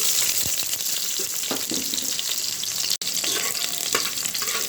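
Chopped onions hitting hot oil in a pan for a Bangladeshi biryani, giving a steady loud sizzle with occasional crackles and a brief stirring scrape, no voices.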